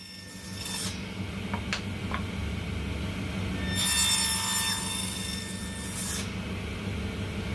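Wooden tenons being cut on a set-up jig, giving a continuous rasping, rubbing cut with a few sharp scrapes and a louder swell midway, close and steady, with no voices.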